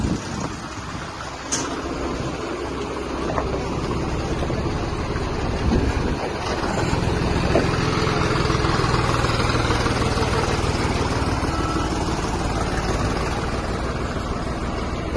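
A vehicle engine idling at a village threshing-ground event in Ronihal, a steady low rumble that continues throughout, with gusts of wind noise over it.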